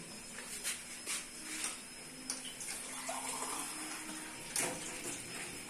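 Water poured into a grinder jar while making green chutney for Pakistani fish fry: a quiet trickling splash with a few soft clinks and bumps at the start, then a short gurgling pour near the end.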